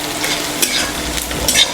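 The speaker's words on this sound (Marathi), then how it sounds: "मी आता याच्यात तेल टाकलं, जिरे टाकले, मोहरी टाकली आणि आता कांदा परते ते" Onion frying in oil with cumin and mustard seeds in a pan, a steady hissing sizzle with brief stirring scrapes, close and alone without talk.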